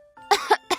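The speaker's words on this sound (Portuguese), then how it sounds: "A flor tossiu." A short burst of coughing, three quick harsh coughs close to the microphone, preceded by a faint tone.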